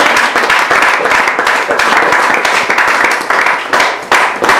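A church congregation at a Pentecost service claps and applauds loudly and continuously, a dense close wash of hand claps with faint voices mixed in.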